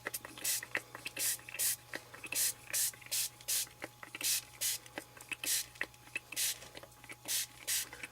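Short hissing bursts of Beetle black spray paint go into a box, about a dozen quick puffs spaced fairly evenly. Each burst is close and sharp, with brief quiet gaps between them.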